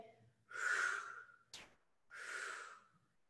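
A person breathes heavily through a yoga exercise, two long loud exhales with a sharp quick inhale between them, close and alone.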